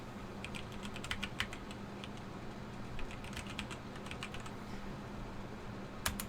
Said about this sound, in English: We want to type certifiedhacker.com.